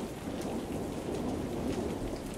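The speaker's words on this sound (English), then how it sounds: "this is a lot of rain" Heavy rain pours steadily at 6 Mile Bend with low rumbling thunder rolling underneath, a dense continuous wash of sound with no voices.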